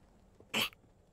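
A person's voice imitates a kobold coughing, a single short harsh burst, close and fairly loud against quiet surroundings.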